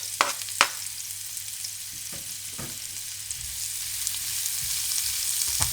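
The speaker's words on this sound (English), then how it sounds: "once we've got that oil nice and heated, I'm just going to throw these veggies in and just cook them out for a little bit" Vegetables sizzle in hot oil with a steady, close hiss that builds gradually, punctuated by a few sharp clatters of stirring early on, with no talking.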